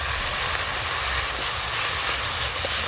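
Mustard paste hits a hot pan of fried onions and gives a continuous loud, broad steamy hiss that stays even throughout, with no talk.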